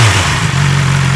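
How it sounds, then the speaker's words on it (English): A 2024 BMW S1000XR TE motorcycle engine held at steady revs through its exhaust, heard up close from the side as a loud, continuous mechanical drone with a slight dip in pitch partway through. "So, throttle. This bike's fully running, don't worry. Let's have a listen from the side."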